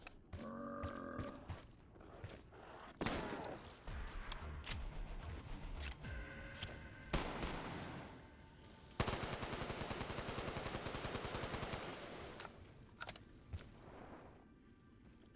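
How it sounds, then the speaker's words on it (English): Automatic gunfire from an M27 rifle in the Black Ops 3 TranZit zombies mode, loud rapid bursts with a dense sustained stretch of shooting midway, mixed with game ambience and no speech. "M27 didn't have firing sounds. I fixed that."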